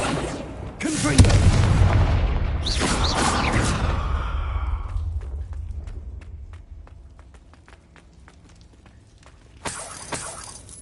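In Hogwarts Legacy, a Confringo spell explodes with a loud boom, followed by a long rumbling fiery tail that fades out, then a second sharp burst near the end.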